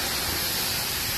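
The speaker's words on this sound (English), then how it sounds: "So I'm spraying this section" A paint sprayer hisses in a steady, dense rush of spray, loud and close throughout the short burst, with nothing else heard.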